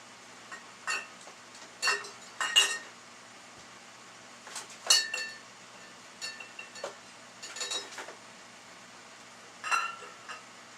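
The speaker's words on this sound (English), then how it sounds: "Rattling is because the top is there, and let me see if I got any glass touching." Scattered light glassy clinks and rattles come from a Leslie speaker cabinet being checked for distortion, occurring in small irregular bursts separated by near silence, close and faint.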